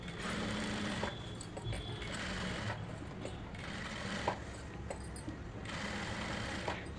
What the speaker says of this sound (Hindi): और यहाँ पर हमें क्या करना है, इस तरह से सिलाई लगानी है।